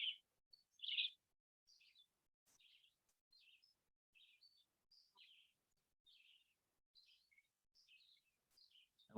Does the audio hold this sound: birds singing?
yes